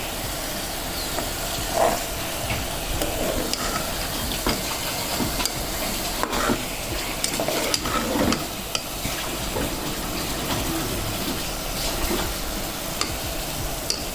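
Millet pongal is stirred in a pan over a constant sizzling hiss, with scraping and light clinks of a utensil throughout.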